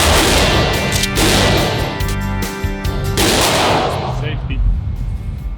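Firearm gunshots ring out at an outdoor shooting session, loud, close, booming reports with long echoing tails, about three heavy blasts spaced a second or two apart.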